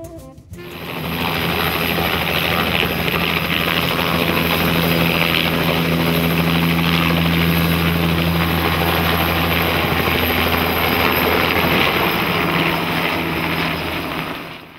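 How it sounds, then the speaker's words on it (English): A helicopter flies over Rio de Janeiro with a loud, steady rotor and engine drone that holds constant throughout, close and alone, with no voices. "some find it more satisfactory to do their own flying in helicopters."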